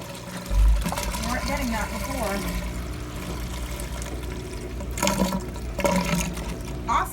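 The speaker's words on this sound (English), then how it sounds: "now we can put this on the spin and drain. And it sounds normal, and the water is coming out nice and forceful." An LG washer-dryer combo drains on spin after a drain pump replacement, a steady churning hum with gushing water surges, while a person speaks briefly over it.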